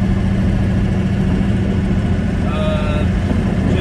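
A 700hp 6.0 Powerstroke diesel engine with smoking injectors is run at about half throttle, producing a loud, steady, deep rumbling drone that holds evenly throughout.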